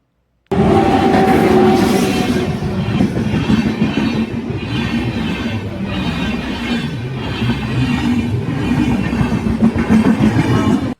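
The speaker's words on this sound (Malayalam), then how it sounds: "ഏകദേശം ഒരു 10 മിനിറ്റ് ഒക്കെ വെയിറ്റ് ചെയ്തപ്പോഴത്തേക്കും ട്രെയിൻ വന്നു." A train rumbles past at close range at a railway crossing for several seconds, loud and continuous, with rhythmic wheel clatter and a steady heavy roar.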